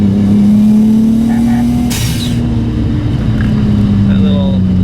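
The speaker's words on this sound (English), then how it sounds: "I'm just gonna show you how fast this turbo spools" Nissan 240SX S13 hatch with a swapped 1JZ engine revving hard from near idle, a loud steady engine drone with turbo spool rising over it and a brief hiss around the middle, close by.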